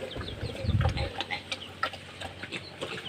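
Chickens cluck at close range on a farm where pigs and dogs are also kept, with a few short, scattered calls over a low background rumble.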